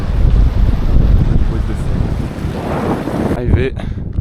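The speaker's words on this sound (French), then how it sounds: "Il y a bien du vent." Strong gusting wind buffets the microphone on a mountain summit at the last peak of the day, a loud, steady low roar with brief speech near the end.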